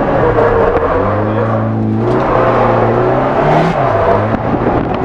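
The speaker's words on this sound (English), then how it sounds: "I'm going to hit the clutch kick" A Nissan 240SX with an SR20 engine revs loud and close during a clutch-kick drift, its pitch climbing, dipping and climbing again in sustained bursts.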